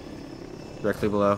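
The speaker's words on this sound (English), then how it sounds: "It's an attack chopper" An attack helicopter in the shooter game Battlefield 2042 drones as a steady low rotor hum, with a player speaking briefly over it near the end.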